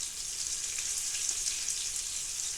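Coconut shrimp frying in hot oil, a steady, bright sizzle with crackling pops, close and continuous, with no voices.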